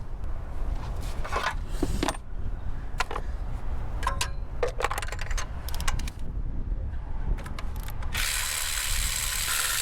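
Hand ratchet clicking while new spark plugs go into a car, heard as scattered, irregular light ticks and clacks over a steady background hum, with a brighter hiss near the end.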